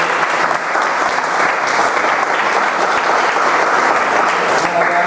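Dense, sustained applause from an audience at a presentation, loud and even throughout with no pauses.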